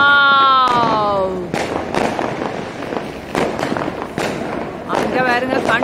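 Diwali firecrackers burst continuously in a dense run of sharp cracks and bangs, with rising whistling streaks from rockets at the start and end, loud and close, while voices shout and talk in the background.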